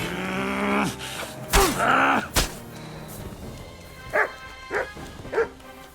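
Several barks or yelps from a dog, the loudest clustered early and a few shorter, evenly spaced ones near the end, against a noisy background with no clear talk.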